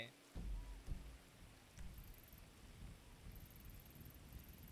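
Rain in Grand Theft Auto V, a steady soft hiss of falling rain with a few thumps and faint high electronic tones, low in level throughout.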